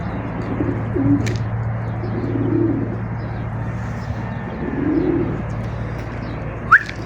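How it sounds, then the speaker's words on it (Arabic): Young racing pigeon squabs coo softly in their loft, low repeated hums rising and falling over a steady background drone, with a brief sharp chirp near the end. "اصور لكم الفرخات"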